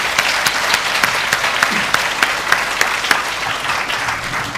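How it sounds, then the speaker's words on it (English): Steady audience applause welcoming a speaker to a lecture hall talk, dense even clapping with sharper individual claps, sustained throughout with no voices. "Can I have a warm welcome applause for Danny Quah and his talk?"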